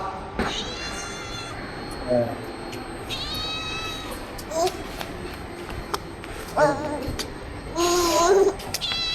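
A cat meows repeatedly in a home during Pongal, several rising, drawn-out calls spread across the moment, with a voice and household chatter nearby.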